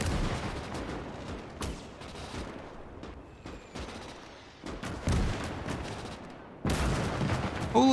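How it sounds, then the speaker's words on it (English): Heavy gunfire from an anti-tank gun in the World War II game Call to Arms: Gates of Hell, with booming shots at about 1.6, 5.1 and 6.7 seconds standing out loud over a continuous rumble of battle and distant firing. "This AT gun is able to shoot over here"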